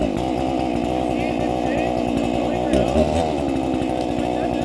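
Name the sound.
Husqvarna chainsaw being started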